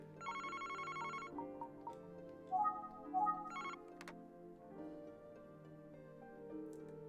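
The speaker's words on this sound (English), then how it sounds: "It's the phone. I thought it was the copy machine." A telephone ringing in the video game Famicom Detective Club, electronic ring bursts repeating a few times over a soft looping game soundtrack.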